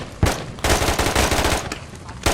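Rapid gunfire in the military shooter video game Squad, loud bursts of shots in quick succession separated by brief gaps, close and sharp.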